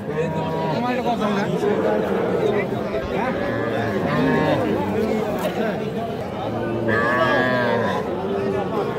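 Cattle and calves moo repeatedly at a busy livestock market, the low calls overlapping with constant crowd chatter and voices nearby.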